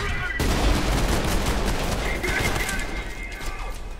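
Gunfire and grenade blasts from the shooter game Trepang2, a dense, loud barrage of overlapping shots and booms that fills the whole stretch, easing slightly toward the end.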